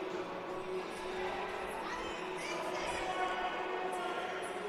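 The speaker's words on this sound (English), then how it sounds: "some displeasure from the crowd" Rink crowd at a college ice hockey game between the Miami Hurricanes and ERAU Eagles, a steady broad murmur of disgruntled voices filling the arena with a few louder shouts rising from the noise, heard throughout.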